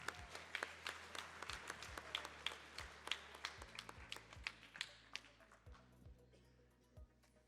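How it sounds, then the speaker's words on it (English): A small audience applauds a graduating student at a school decision day event, giving scattered, sparse claps that are quite faint and spaced apart, with a few low thumps mixed in. "let's give Morgan a round of applause"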